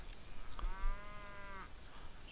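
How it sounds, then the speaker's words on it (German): Cattle in the strategy game Civilization V give a single drawn-out moo, clear and mid-distance over a faint game ambience, with no speech. "So, die ganzen Kühe."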